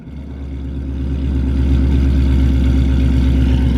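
A supercharged Ford Mustang GT350 V8 fires up on a hot start close by and settles into a loud, deep, rumbling idle with a steady throbbing pulse.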